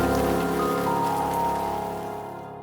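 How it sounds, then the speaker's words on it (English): A rain sound effect gives a dense, steady patter of falling rain, moderately quiet, that thins and fades away toward the end. "Shall we have a little rain for atmosphere?"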